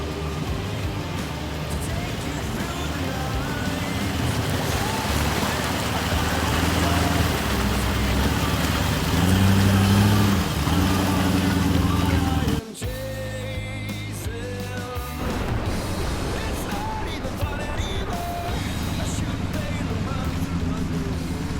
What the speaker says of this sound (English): we're doing the creek crossing just before King Edward